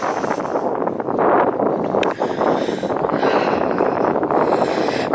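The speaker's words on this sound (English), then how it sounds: "It's going to be very windy." Strong wind gusts over open fields near Westbury Beacon in February, a steady loud broadband roar with no talking.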